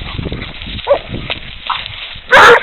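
Coon dogs bay and bark in short scattered bursts during a chase, with one loud close bark near the end, over a busy outdoor background.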